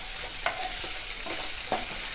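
Green chillies, an inch of chopped ginger and six or seven garlic cloves roast in oil on a medium flame, a steady soft sizzle with a couple of light stirring scrapes.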